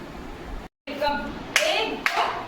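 A group of girls in a self-defence class claps a rhythmic welcome pattern, with sharp separate claps standing out over chanting voices and a brief dropout near the start.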